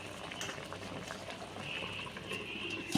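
A covered pot of pointed gourd cooking in milk simmers on the stove, a faint steady bubbling and hiss with soft liquid pops throughout.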